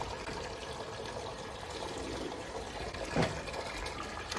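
Borehole water pouring steadily from a well pump supply, a continuous moderate splashing flow with a brief louder gush near the end, no talking.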